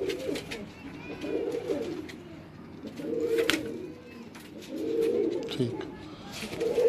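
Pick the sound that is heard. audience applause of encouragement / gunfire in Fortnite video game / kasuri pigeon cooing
kasuri pigeon cooing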